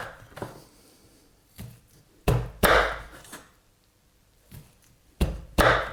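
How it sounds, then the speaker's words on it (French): A knife chopping corn on the cob into rounds for a Cajun shrimp and sausage sheet-pan dish: a handful of sharp, close thunks on a cutting board, spaced irregularly with quiet pauses between them. "le maïs on va le tronçonner comme ceci."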